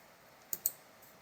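Two quick computer mouse clicks in a quiet room, sharp and close, a short pause between them, followed by a faint third tick.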